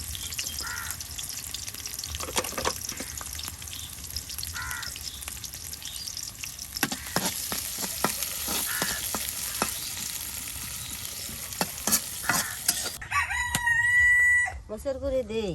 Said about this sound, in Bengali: এই যে পেঁয়াজ রসুন গুলা, হ্যাঁ আপনার ভাজার জন্য তেলের ভিতরে দিয়ে দেওয়া হলো